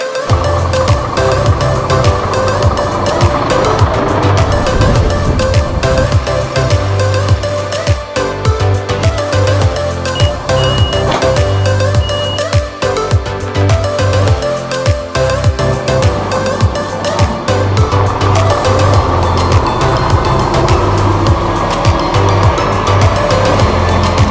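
A Scania R 540 truck with a six-cylinder, 2,700 Nm engine drives on the road, its deep engine drone steady and loud throughout with continuous road and cab noise.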